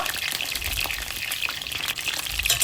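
Eggplant slices fry in a pan with a steady, dense sizzle and crackle that holds throughout, close and fairly loud, with no voices.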